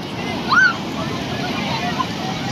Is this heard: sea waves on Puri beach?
yes